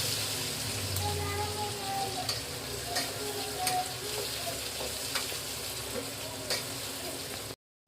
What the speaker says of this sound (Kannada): ಚೆಂದಾಗಿ ನೀಟಾಗಿ ಫ್ರೈ ಮಾಡ್ಕೊತೀನಿ ರೀ